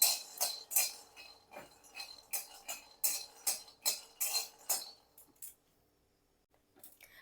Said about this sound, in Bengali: শুকনো খোলাতেই আমি বাদামটা ভেজে নেবো